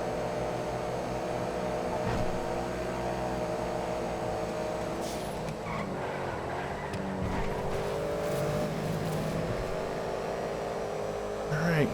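A race car engine in FiveM, the GTA V game, drones and revs steadily, shifting pitch as it accelerates, with a few faint thumps and a voice partly over it.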